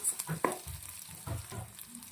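Onion and garlic sizzle and crackle in hot oil, with a few soft stirring scrapes, close and fairly quiet.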